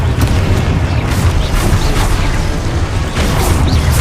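Spell blasts in the video game Hogwarts Legacy, a dense run of booming bursts and crashes layered over a constant rumble, loud and close with repeated impacts.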